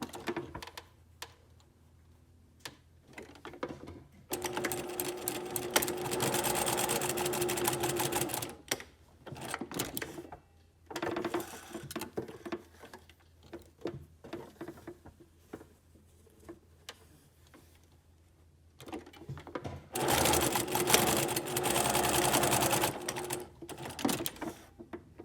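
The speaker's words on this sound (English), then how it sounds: "we will stitch at 1/4 inch seam allowance down both of the short edges" A sewing machine stitches the short edges of a fabric welt in two long, rapid, even bursts of whirring clatter, separated by quieter stretches of small handling clicks and pauses, close and clear with no talking.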